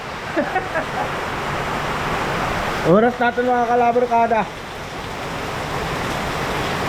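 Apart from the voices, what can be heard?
heavy typhoon rain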